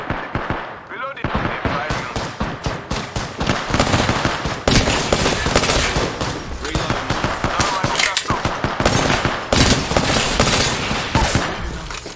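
Dense, loud automatic gunfire from a shooter game pounds almost without pause, with rapid bursts and single shots layered on each other while players talk underneath.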